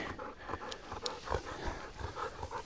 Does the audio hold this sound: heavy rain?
no